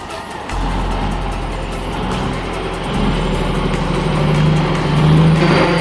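Logging semi-truck climbing a steep, muddy forest slope without cargo, its engine humming steadily and loud, with a low drone that rises slightly in strain toward the end.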